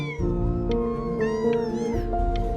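Several cats meow in the video game Before Your Eyes, with overlapping drawn-out, wavering cries close up over a steady tonal background hum.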